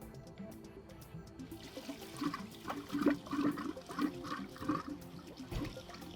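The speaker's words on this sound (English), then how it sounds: "we're going to slowly turn the water on to allow water into the tank" Water runs and fills into a whole-house backwash filter tank as a valve is slowly opened, a steady low rushing and trickling that swells slightly, close and fairly quiet, with no talk.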